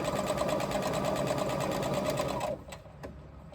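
A domestic sewing machine top stitching canvas, a steady close rapid mechanical whir for about two and a half seconds, then stopping and leaving a few small clicks.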